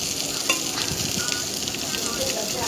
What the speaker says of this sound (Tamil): அப்புறம் ஒரு சின்ன வெங்காயம் சேர்த்துருக்கேன், பொடிக்கா நறுக்கி. அதை நல்லா வதக்கிக்கோங்க.